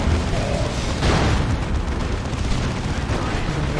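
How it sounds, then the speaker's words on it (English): Grenade launcher barrage in a Warhammer strategy game with Imperial Guardsmen and a Dreadnought: dense rolling explosions and booms fill the field, a heavier burst near the middle, with a voice talking through the din. "Ooh, that grenade launcher barrage was pretty good."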